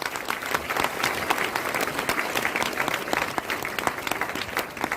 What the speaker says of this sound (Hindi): उनके लिए जोरदार तालियां मारो पहले